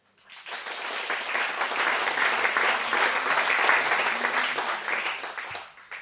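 An audience applauds conference speakers at an electric mobility event, clapping swelling in, holding steady and loud for several seconds, then fading out.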